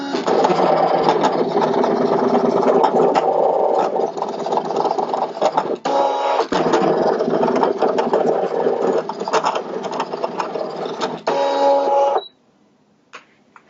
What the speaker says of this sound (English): Now that it's finished cutting, I'm going to go ahead and unload it from the machine.